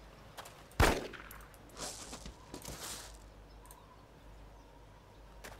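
A single sharp gunshot in the video game DayZ, fired at a zombie, with faint clatter and ambient game noise trailing after it.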